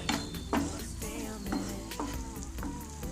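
Kaalan mixture with lemon added is stirred in a pan, a spoon scraping and tapping about five or six times against the metal under a steady sizzle, close and moderately loud, with no talking.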